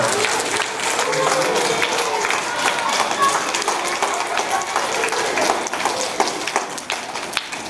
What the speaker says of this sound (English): Let's give Amelia Bedelia a big round of applause.